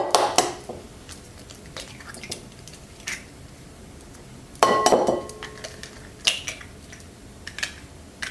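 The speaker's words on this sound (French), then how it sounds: "dans un saladier, je casse 3 œufs" Three eggs are cracked into a salad bowl: a few sharp, quiet taps and clinks spaced apart over a soft background, with no speech.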